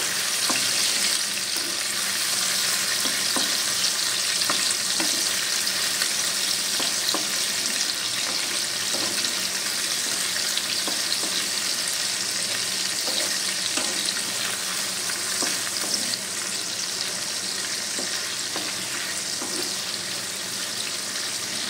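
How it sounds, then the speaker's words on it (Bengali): Prawns fry in hot oil for a gourd-and-prawn curry, giving a steady, loud, dense sizzle with occasional crackles and pops throughout, no voices. "তো চিংড়ি মাছগুলো অল্প একটু ভেজে তুলে নেব।"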